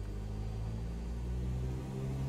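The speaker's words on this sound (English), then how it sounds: "It does make the engine louder." EA-7 Optica engine in Microsoft Flight Simulator as the throttle is raised slightly: a low, dense rumbling hum that stays steady and swells a little in the second half, with no talking.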